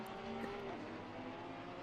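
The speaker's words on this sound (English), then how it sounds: "hear the engine of the Ferrari downshifting that big V10. Very distinct note." A Ferrari race car with a big V10 downshifting during a three-hour endurance race at Zandvoort, its engine heard faintly as a tonal whine whose pitch steps and shifts over a low, steady track rumble.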